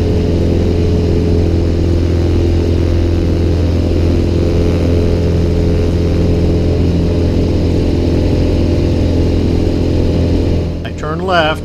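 Light aircraft piston engine at climb power, 25 inches of manifold pressure and 2500 RPM, just after takeoff with landing gear retracting, a loud steady droning hum throughout that dips briefly near the end.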